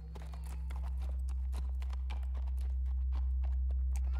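A horse's hooves clip-clop in an uneven walking rhythm in The Walking Dead video game, with sharp distinct hoofbeats over a steady low rumble that swells slightly.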